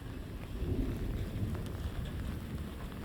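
Thunder rumbles low and distant through a steady rain shower on a stormy night, a continuous dull roar with no clear crack, heard alone and fairly faint.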